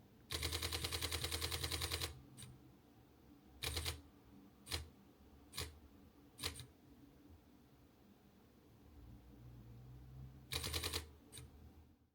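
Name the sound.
OM System OM-5 mechanical shutter burst, 10 photos per second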